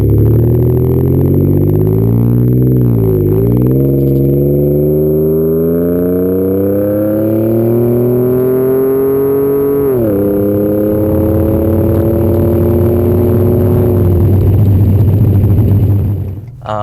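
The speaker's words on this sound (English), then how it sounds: "Overall, I think this exhaust was a really good choice for this truck." Ford F-150 with a 2.7L or 3.5L EcoBoost twin-turbo V6 and an MBRP 4-inch single side exit cat-back exhaust, loud steady engine drone rising in pitch through several revs and gear changes, close and continuous with no talk.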